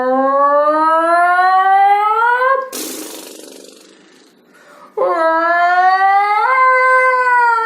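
A voice imitates a ferocious snore mixed with a roar: two long, loud, rising growling tones with a raspy, breathy snort between them.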